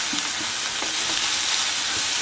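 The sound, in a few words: dried shrimp frying and being stirred on low flame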